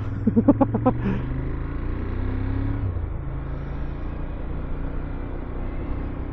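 A Ducati Monster 1200S fitted with an oversized rear tire rides along a road, its engine a steady low rumble under wind noise, with a short burst of throttle pulses near the start and no speech.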